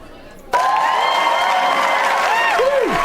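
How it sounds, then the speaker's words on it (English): A small group bursts into applause and cheering for a friend at a cocktail gathering, starting abruptly and staying steady and close, with a voice whooping near the end. "Let's give you some applause"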